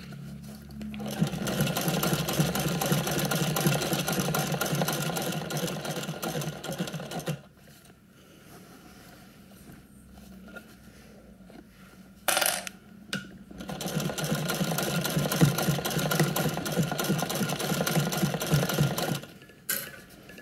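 A vintage sewing machine stitching a bag, running in two long loud humming bursts of rapid stitching separated by a quiet pause with a few sharp clicks, close up and without voices.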